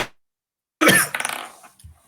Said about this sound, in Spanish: me agarró una tos terrible